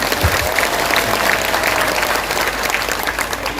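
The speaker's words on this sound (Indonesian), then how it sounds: "Tepuk tangan tuh Pak Zulkifli" Applause from the crowd at an Islamic boarding school gathering in Sleman, Yogyakarta: loud, dense clapping from many people, sustained evenly throughout, with a brief low thump near the start.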